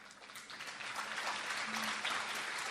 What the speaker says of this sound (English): How feeble is your clap?